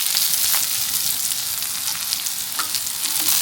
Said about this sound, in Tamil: இதை கொஞ்சம் நல்லா வதக்கி எடுப்போம்.